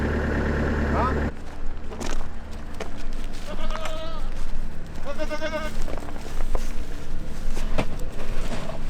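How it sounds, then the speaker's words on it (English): Goats on a farm bleat several times in wavering calls, close and fairly loud, after a vehicle engine rumbles at the start and then cuts off. "Y'all about the selfish bunch of goats I've ever seen in my life."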